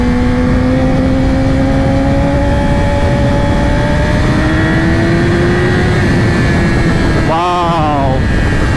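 A 2020 Yamaha R6 sport bike with a LeoVince Factory S exhaust screams loudly as the engine pitch climbs steadily through the revs while riding, then gives a sharp, warbling shift burst near the end.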